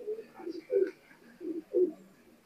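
A Rampuri cross-breed male pigeon coos in a series of about five soft, low, throaty pulses, close and fairly quiet, with no talk over it.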